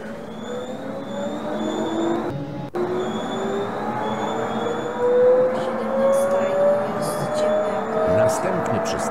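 A tram rolling along in a tram-driving video game, a steady motor whine that slowly rises in pitch as it accelerates, with a brief cut partway and a person talking over it.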